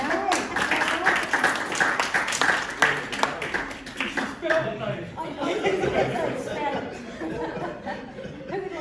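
A live audience claps and cheers with scattered laughter, the applause dense at first and then fading into chatter and talk.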